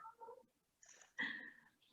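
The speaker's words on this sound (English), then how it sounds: "There's a cat." A cat meows faintly at home during a virtual animal meet-and-greet, a few soft, short calls with a slightly louder, drawn-out meow in the middle and quiet gaps between them.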